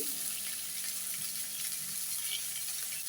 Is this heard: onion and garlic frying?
yes